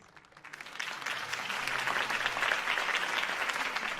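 Crowd applause follows a campaign speech in the Batman Telltale video game, rising after a quiet start into steady, dense clapping that continues to the end.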